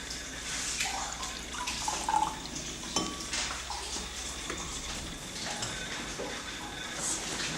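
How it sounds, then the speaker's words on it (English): Tap water runs and splashes into a laboratory beaker, a steady hissing pour with small clinks and drips scattered throughout, close and continuous. "And I pour into it water from the tap."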